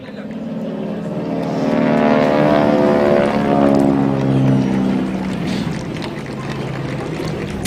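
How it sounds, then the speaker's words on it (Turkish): A 1953 basic-training propeller airplane flies over an outdoor public celebration in İzmir. Its droning engine swells loud and close, then slowly fades as it passes, with faint crowd noise beneath. "Uçağın sesini dinleyin."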